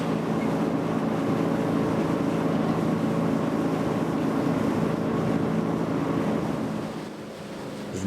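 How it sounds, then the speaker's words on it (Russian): A motor boat runs upriver on the fast, rough Katun River in the Altai, with a steady, loud engine drone and water rush close by that holds constant and eases slightly near the end. "Здесь, пересев на катер, отправились вверх по бурной реке."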